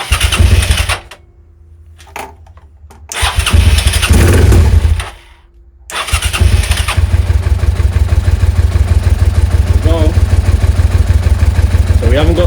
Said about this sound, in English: Let's start it up now and see if it makes a difference.